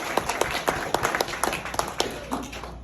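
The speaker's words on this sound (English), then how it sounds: "Give a round of applause." Wedding guests clap during a reception speech, a moderate round of distinct overlapping claps that carries on briskly before tapering off at the end.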